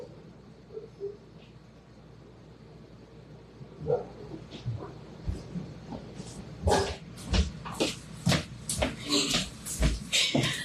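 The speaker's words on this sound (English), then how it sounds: "Of course they would pick to fight with the neighbor dog when I'm live." Several dogs barking and scuffling with a neighbour's dog, the outburst building from about four seconds into a run of loud, close, repeated barks and yelps over a faint background.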